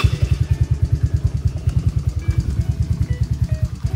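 A Honda SOHC turbo engine fitted with a stainless exhaust pipe idles while warming up, a close, loud, lumpy putter of rapid, evenly spaced exhaust pulses with a slight clattery edge, heard alone.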